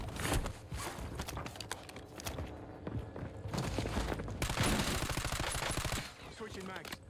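Rapid automatic fire from an LC-10 rifle in Call of Duty Warzone, in sustained bursts with brief pauses, fairly close, mixed with game ambience.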